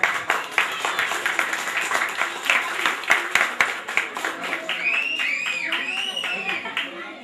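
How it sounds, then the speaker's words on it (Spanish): A crowd at a community festival in Melo, Cerro Largo, Uruguay in 2014 claps in a loose rhythm, then the clapping fades under cheering and raised voices. "un aplauso por favor."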